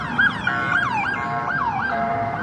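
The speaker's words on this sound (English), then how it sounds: "I've seen this police car everywhere" Wailing police car siren on a New York street, loud and near, with repeated rising and falling sweeps over a steady traffic rumble, no one talking.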